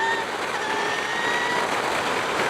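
A Brammo Empulse TT electric motorcycle with a 13-tooth front sprocket cruises in second gear at about 40 mph on a fast street, with a steady rising motor whine over constant wind and road rush.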